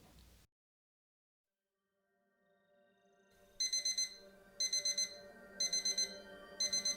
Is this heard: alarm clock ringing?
yes